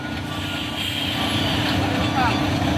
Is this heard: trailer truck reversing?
yes